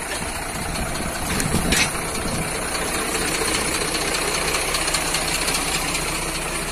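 A steady, low engine rumble runs throughout with a brief louder swell near the start, like a tractor idling close by.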